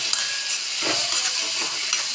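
Chickpeas stirred into masala simmer on a low gas flame, giving a soft, steady steam-like hiss with faint stirring scrapes throughout.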